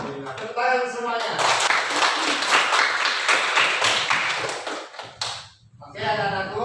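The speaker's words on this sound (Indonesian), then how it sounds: "Tepuk tangan semuanya" Children in an Indonesian classroom clap together in a dense, lively burst of applause lasting several seconds, bracketed by a teacher's voice before and after.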